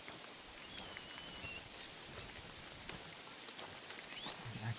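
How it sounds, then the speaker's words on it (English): Rain falling in the medieval open world of the video game Kingdom Come: Deliverance II, a steady dense patter of drops on surfaces, soft and continuous, with faint birdsong chirps rising near the end and no talking. "It actually rains quite a lot."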